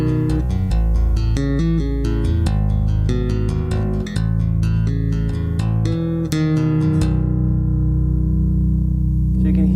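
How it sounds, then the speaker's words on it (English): Bass guitar tapping through a BG250 combo amp set to an airy tone, with fast percussive taps and clicky note attacks over a sustained low end before ringing out alone. "Hear all the taps and all the clicks and stuff"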